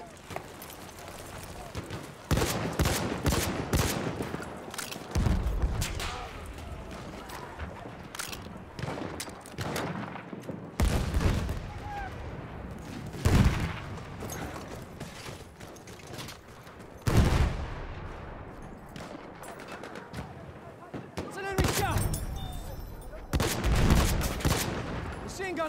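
Machine gun fire in the Battlefield 1 video game comes as sharp bursts and volleys scattered through a busy battle soundscape, loud and close at moments, with in-game voices calling out between them.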